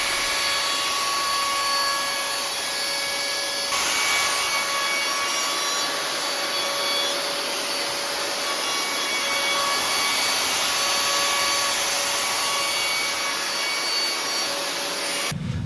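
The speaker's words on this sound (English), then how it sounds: "I just needed to round the edges over to lose the sharp corners" Router rounding over the edges of wooden bed frame pieces for a height-adjustable cot, a steady loud high-pitched motor whine with rubbing cutter noise, continuous for about fifteen seconds with a brief dip near four seconds and no talk.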